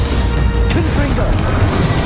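A Confringo fire spell blast from the game Hogwarts Legacy, a brief crashing burst among dense, continuous game effects and rumble.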